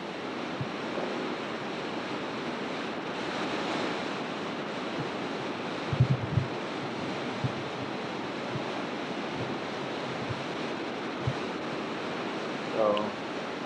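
Water churns far below a high canyon suspension bridge, a steady broad wash of flowing water mixed with wind across the microphone, with a few soft knocks and a brief voice near the end.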